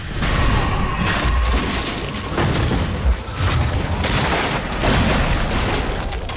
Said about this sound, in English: We're under attack! Captain's dead! Cut down by cannon shot!